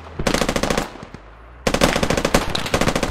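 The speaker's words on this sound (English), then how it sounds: "There's an MG emplacement to our north." Sustained machine gun fire from an MG emplacement in the military shooter Squad, two long rapid-fire bursts of loud, evenly spaced shots split by a short pause with a few scattered single cracks.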